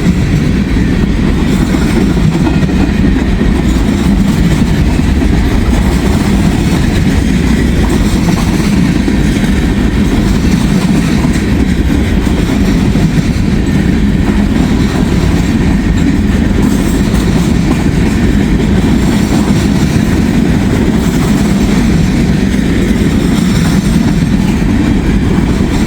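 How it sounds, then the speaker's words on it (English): An old junk train rolls past in Ohio, a loud continuous rumble of railcars with clickety-clack from the wheels, steady from start to finish with no talk. "An old junk train, as Stu String used to call them."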